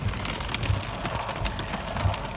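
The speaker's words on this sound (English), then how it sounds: "It's starting to rain now, and it's melting off my hood." Steady rain with pea-sized hail during a severe thunderstorm in Colebrook, Connecticut, a dense continuous patter with scattered sharper ticks and low rumbling thuds, fairly close and without talk.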